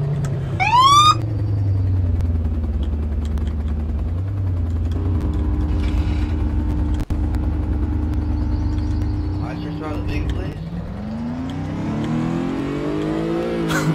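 A BMW M5 engine in the video game GTA drones steadily and loudly, swelling as it revs up near the end, with a brief high whine at the start.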